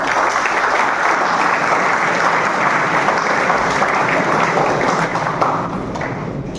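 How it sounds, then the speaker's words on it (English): An audience claps at a university book release ceremony for World Maritime Day, loud dense applause filling the hall close up and holding steady before easing slightly at the end. "Let's give a big clap for them."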